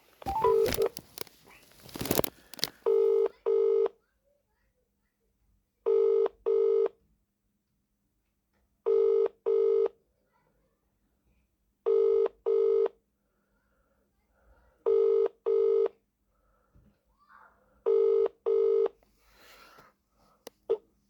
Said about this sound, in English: Ringing up Christopher Browell